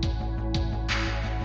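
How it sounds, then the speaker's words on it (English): Music run through a lo-fi plugin for a raw, degraded dream-pop sound, with a thumping low beat and hazy bursts of noise, moderately quiet and without voices. "I use it just to like get a more raw sound."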